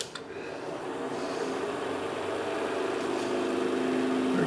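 A cherry pepper mill blank spins on a wood lathe at nearly 1,500 RPM, making a steady close motor whir with a faint rising tone and no talking.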